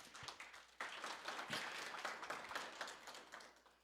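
An event audience claps a hand for partners, steady applause from many people that sounds faint and distant throughout, with no voices heard over it.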